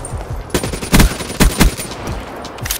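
Sharp ICR assault rifle shots in Black Ops 3 ring out in several short bursts, with loud close reports and quieter shots between them and no voices.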